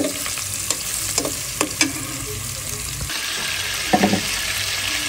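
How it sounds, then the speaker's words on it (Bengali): Fish frying in a pan gives a close sizzle, punctuated by a few sharp scrapes and knocks as it is turned and stirred, with a brief splash of water near the end. "এখানে দেখতে পাচ্ছি মাছটা হলো কষানো হয়ে গেছে"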